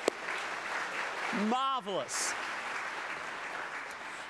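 An in-person crowd of about 330 applauds at a public science talk, with a steady wash of clapping throughout and one short spoken exclamation near the middle.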